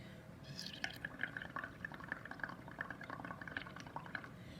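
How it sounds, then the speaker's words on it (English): Bubbles blown through a straw into chocolate milk gurgle and pop in quick, irregular bursts, close and faint over a quiet room. "I used to love to blow chocolate milk because it made the coolest bubbles"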